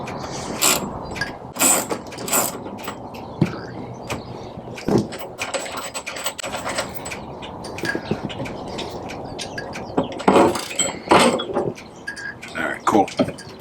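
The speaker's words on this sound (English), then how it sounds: "grab our 19mm wrench, and crack this thing free." A 19mm wrench works a bolt loose on the rear stress bar of a Mk6 Volkswagen GTI, giving sharp metallic clicks and ratcheting snaps at irregular intervals, close by, over a faint background hum.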